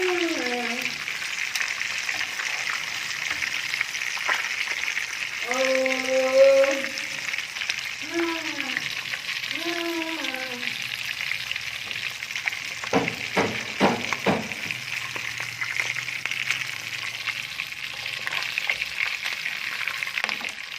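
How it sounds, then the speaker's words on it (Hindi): Fish frying in hot oil for a Bengali-style salan, a continuous steady sizzle throughout, with a voice talking over it at intervals and a few brief clinks near the middle. "इसी तरीके से हम सारी फिश को तल लेंगे।"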